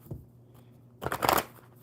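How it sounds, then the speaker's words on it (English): A deck of oracle cards shuffled by hand, a light tap followed by a short close riffle of flicking cards. "One more good shuffle."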